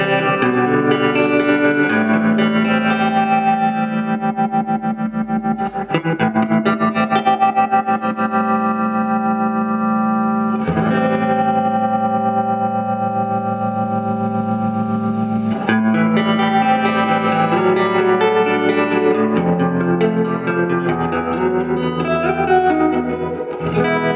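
Guitar through a 1965 Fender Deluxe amplifier under repair with its vibrato switched on, sustained chords and notes shimmering with a pulsing wobble and some reverb, loud and continuous with chord changes every few seconds.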